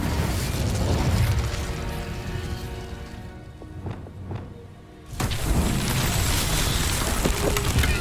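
An Incendio fire spell from Hogwarts Legacy bursts with a loud whooshing roar, fades into a lull with a few clicks, then flares again into a dense, sustained fiery rush.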